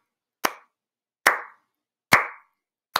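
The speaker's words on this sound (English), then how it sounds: "I'm just clapping the steady beat." Four sharp hand claps land at an even, steady pace, close and crisp, with silence between each one.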